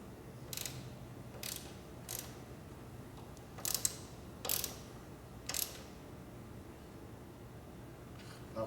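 A ratchet wrench tightens the threaded lock nut and washer on a Harley motorcycle seat post, giving several short, separate clicking bursts, close but faint against a quiet background.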